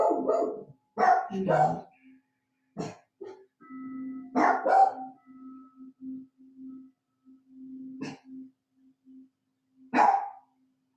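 Dogs barking in a home setting, a few distant barks scattered over a steady low hum, with a person speaking softly at the start and end.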